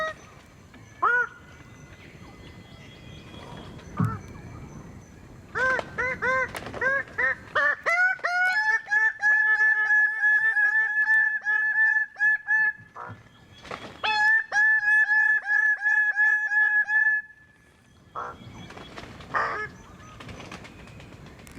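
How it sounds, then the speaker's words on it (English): Loud, repeated honking calls from geese nearby at dawn, coming in bursts with brief pauses between series. "as it started to get light, I heard the birds coming"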